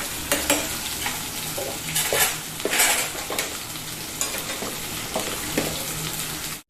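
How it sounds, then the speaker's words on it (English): Chopped onions, two green chilies and garlic fry in a pan with a steady close sizzle, while a spoon scrapes and knocks against the metal in an irregular stirring rhythm. No one speaks. "I am adding the chopped onions, 2 green chilies and garlic, and I am going to fry them nicely till they turn light brown"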